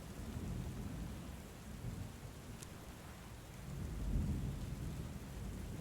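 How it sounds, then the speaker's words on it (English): A storm plays as an audiobook sound effect, with wind, steady rain and low rumbling thunder in a continuous, fairly faint wash, swelling slightly toward the end. "Storm wind plucks at you both."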